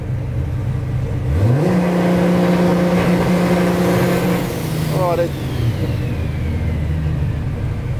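A car engine on a turbo tuning rig revs up and holds around 3,500 rpm with a steady droning tone while the turbo spools, a rising whistle briefly sweeping over it; loud and close throughout.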